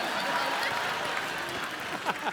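A studio audience on a comedy talk show claps loudly to welcome an Indian tennis superstar, a dense, steady wash of applause with a few chuckles and a voice speaking under it.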